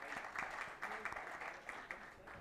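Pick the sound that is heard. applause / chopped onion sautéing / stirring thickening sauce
applause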